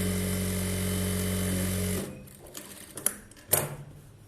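An electric sewing machine runs steadily and loud for about two seconds, edge-stitching the lining of a blouse, then stops, leaving a few faint handling clicks and rustles.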